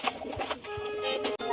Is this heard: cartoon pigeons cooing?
yes